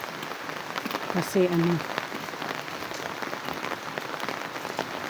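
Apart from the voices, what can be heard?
rain falling on the road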